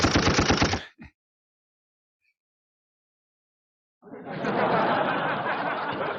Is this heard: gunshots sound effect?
yes